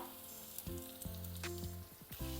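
Green beans, carrots and potato sauté in oil for a millet khichdi, making a soft, quiet sizzle under faint tonal background sounds, with a few brief clicks and no speech.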